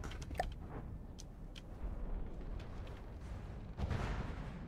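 Explosions in the naval combat game From the Depths, a steady rumbling barrage with sharp cracks near the start and a heavier burst of blasts toward the end.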